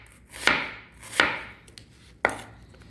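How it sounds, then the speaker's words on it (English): Three sharp knife chops on a plastic cutting board while making a shepherd's pie, each a crisp close knock with a short tail, spaced roughly evenly with quiet between. "I'm using my plastic cutting board today. And it's loud."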